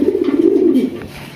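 A Raj Golla pigeon gives a single close, throaty coo that rolls for under a second, then trails off into quiet.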